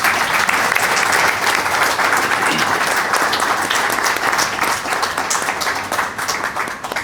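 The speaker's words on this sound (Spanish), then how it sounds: "Por favor, recibámoslo con fuertes aplausos." An audience at a book presentation for Aldo Antonio Farro's "Como Dios me mira" applauds steadily and loudly, a dense wash of many hands clapping that holds for about seven seconds, easing slightly near the end.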